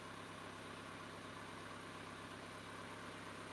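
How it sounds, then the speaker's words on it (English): A boat engine idling on a troll boat in Alaska, a steady loud drone with strong vibration that holds evenly throughout with no talk. "It's a lot of vibration on this engine too."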